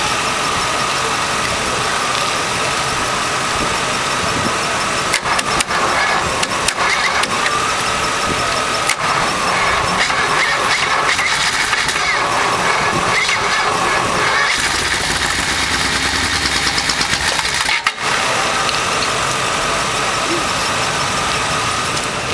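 A Chrysler 331 poly V8, sitting for 30 years and fed ether and starting fluid, cranks and fires into loud, rough running with surges and a short stumble, close and continuous.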